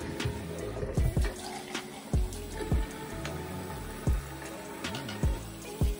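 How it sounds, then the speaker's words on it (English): Hot tap water runs steadily while makeup brushes are rinsed under it, with a constant splashing flow and about ten sharp knocks and clatters scattered through it, and no talking. "I'm rinsing this out with hot water"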